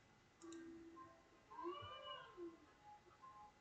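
A cat in the video game MeowMeowLand gives a few soft, drawn-out meows with rising and falling pitch, faint and alone over a quiet background.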